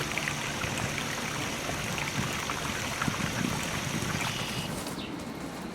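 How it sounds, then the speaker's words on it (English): Water trickling from a backyard garden pond fountain: a constant, close splashing babble that holds steady, with the upper hiss thinning out just before the end. "could try a little garden pond or fountain. Not only will the sound attract them"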